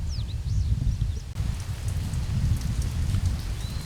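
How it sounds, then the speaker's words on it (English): Rain from a passing storm falls steadily and fairly loud, a dense hiss of drops pattering on surfaces throughout, with faint bird chirps at the start and no talking. "Had pretty good little rain come through here, a little bit of lightning, thunder."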